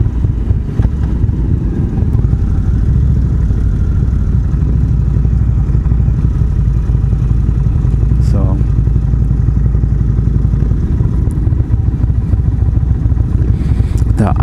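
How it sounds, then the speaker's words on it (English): An Indian Springfield Dark Horse motorcycle engine rumbles loud and close at a steady idle, a deep even pulse that holds throughout with a little wind noise. "the idle sounds amazing. I mean, just listening to it, flipping the throttle"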